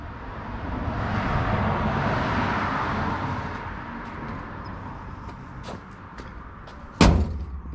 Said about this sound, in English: The doors close really firm